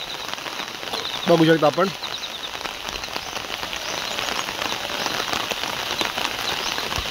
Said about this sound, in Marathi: हा रिमझिम पडणारा पाऊस कोकणामध्ये आपला